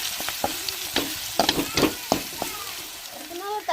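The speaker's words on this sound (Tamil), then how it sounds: "வெள்ளைப்பூடு வெங்காயம் எல்லாமே நல்லா எண்ணெயிலே கொஞ்சம் நேரம் வதங்கி வரட்டும்" Garlic and onions sauté in oil for a Tamil-style anchovy dried fish gravy, a steady sizzle broken by several sharp scraping stirs of a spoon in the pan, with faint indistinct voice in the background.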